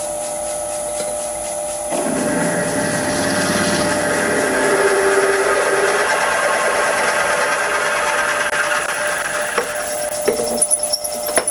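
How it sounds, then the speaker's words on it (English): A 10mm drill bores into an old Rheum shock absorber, starting after a short pause with a steady, loud grinding whine of metal cutting that holds for several seconds, followed by a few rattling clicks at the end. "10mm drill. Bigger drill bits won't fit this old Rheum shock."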